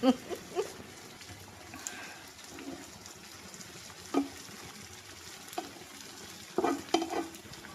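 A constant low sizzle of chicken frying with occasional sharp clatters of a spoon stirring and scraping the pan, up close and without voices.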